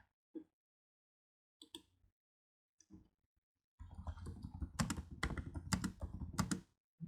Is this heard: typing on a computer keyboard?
yes